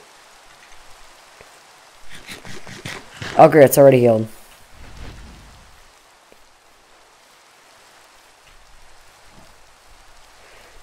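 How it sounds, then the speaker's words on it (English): Rain falls in modded Minecraft as a faint, even hiss running through the whole scene, while someone talks over it for a few seconds. "won't the stupid rain just go away already?"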